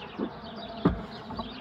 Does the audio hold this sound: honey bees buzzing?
yes